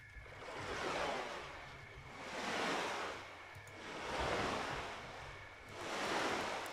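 Water in the video game Kenshi rolling in slow, regular swells like surf, four soft rising and falling washes at an even rhythm, faint and alone with no voices.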